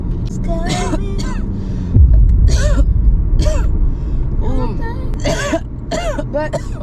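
A man coughs and clears his throat in short repeated bursts, close and fairly loud, over a low vehicle-like rumble, with talking in between.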